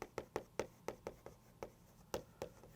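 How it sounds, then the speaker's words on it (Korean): Chalk or marker writing notes on a classroom board during a lecture: a quick run of about a dozen sharp taps and short scratchy strokes in an uneven rhythm, close and fairly quiet, with no talking. "적어놓고 설명할게요"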